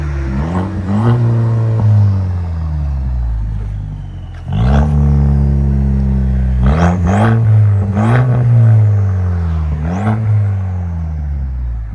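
A 2023 Chevy Silverado Custom with a 2.7L turbo and fully straight-piped exhaust revs hard in several loud, rising blips with deep rumbling drops between them, close to the tailpipe.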